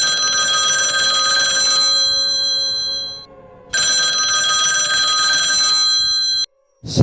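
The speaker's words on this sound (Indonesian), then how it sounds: "tiba-tiba suara dering telepon kantor berdering keras sekali" An office telephone ringing loudly with a bright electronic bell, two long ring bursts separated by a short gap and then a brief silence, close and alone.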